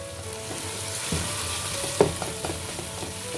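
Tomato frying with spices in a pan for mooli aloo bhujia gives a steady close sizzle, with a few sharp clicks and stirring scrapes around the middle.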